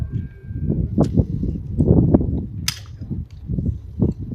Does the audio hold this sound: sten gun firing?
yes